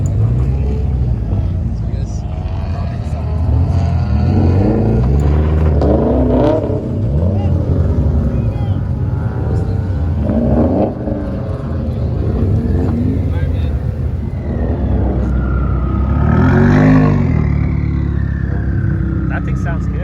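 A sports car engine revs and accelerates on a canyon backroad, its rumbling exhaust note rising and falling through several pulls, with people talking nearby over it.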